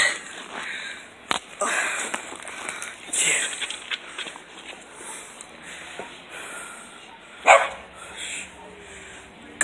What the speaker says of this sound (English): Shh, dog. Dog, be quiet. Dog, be quiet.